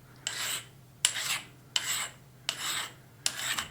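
Deburring tool scraped along the edge of a metal part to form a slight roundover, five evenly spaced rasping strokes with a sharp start and a smooth scrape, close and fairly quiet over a low hum.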